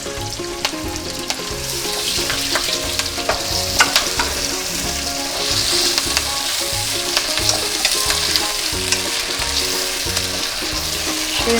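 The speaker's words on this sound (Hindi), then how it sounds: "अब इसको सौटे करेंगे थोड़ा। इसके अंदर मैं ये श्रिम्प डाल रही हूँ।" Shrimp sauté in a hot pan with a loud, steady sizzle and a rhythmic series of knocks and scrapes from the stirring utensil, close up with no talking.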